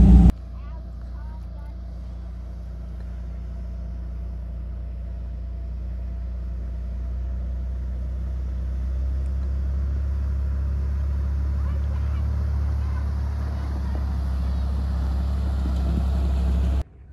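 A Toyota Tundra drives a high mountain pass trail near Hancock in Colorado, its engine a low steady rumble heard from inside the cab that grows slightly louder partway through, then cuts off at the end.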